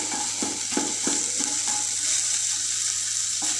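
A utensil scrapes and stirs egg bhurji in a frying pan in a home kitchen, a few soft rhythmic strokes over a steady sizzle and background hum.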